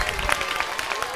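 A classroom of students at Lycée Linada in Dapaong claps briefly together in a dense burst, with voices and chatter mixed in underneath.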